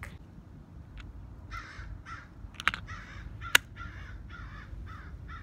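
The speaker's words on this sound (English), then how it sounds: "The bird agrees with me. You heard that." Outdoors, a crow caws repeatedly in a rhythmic series of hoarse calls at moderate distance, with a couple of sharp clicks in between and no talking.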